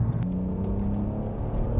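A BMW E46 330i Touring fitted with a Scorpion exhaust drives along, its engine giving a steady, close, low rumble and whir with no talking.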